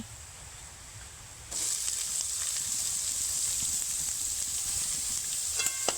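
Chopped onion hits hot oil with grated ginger and garlic, a low hiss that jumps to a steady loud sizzle at about 1.5 seconds and holds close up, with a few faint clinks near the end.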